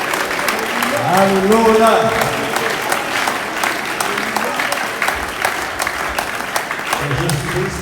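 A church congregation applauds steadily while acclaiming Jesus Christ, dense continuous clapping under a voice calling out and singing, the crowd filling the room throughout.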